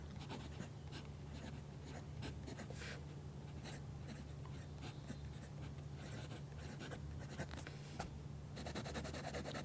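A fountain pen inked with a Lamy black cartridge moving across paper, close and quiet, giving soft intermittent scratchy strokes in quick bursts over a low steady room hum, with no voice.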